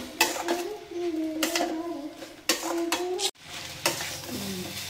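Green chilies and chili powder are sautéed in a pan while preparing a paneer roll. A spoon stirs and scrapes in repeated strokes over a soft, steady sizzle, close and fairly quiet.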